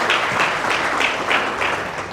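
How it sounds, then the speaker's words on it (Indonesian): Loud, steady applause from a church congregation during a worship service, with rhythmic surges of clapping across the whole moment and no voices over it. "tepuk tangan sekali lagi buat Tuhan"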